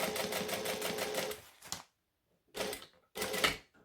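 A sewing machine runs a rapid, rhythmic burst of stitching, then stops and fires two short back-stitch bursts separated by brief silences, close and clear.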